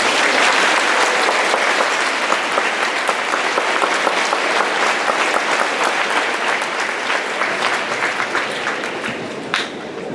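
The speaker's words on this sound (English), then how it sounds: "Please give these veterans a round of applause." Audience applause at a high school Veterans Day assembly for veterans being honoured, a steady, dense round of clapping from a large crowd that holds for several seconds before tapering slightly.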